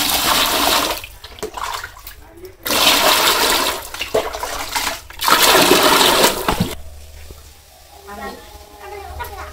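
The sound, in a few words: water poured into a bucket to keep fish alive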